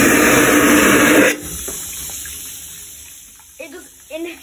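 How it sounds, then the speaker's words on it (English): A vacuum toilet aboard the MSC World Europa cruise ship gives a loud, rushing suction whoosh for just over a second, then cuts off abruptly. A quiet room and a few spoken words follow. "It just inhales the water really loudly, like planes."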